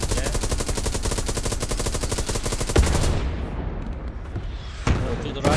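Rapid automatic tank fire in the WWII game Hell Let Loose, a dense sustained burst of loud gunfire for about three seconds, then heavier booming shots punctuating a rumbling battlefield backdrop.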